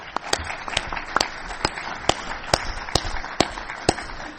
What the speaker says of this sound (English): How about a round of applause for our panel members?